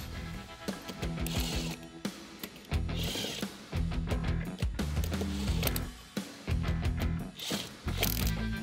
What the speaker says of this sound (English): just bring it up on the lug nuts and then just kind of tighten them evenly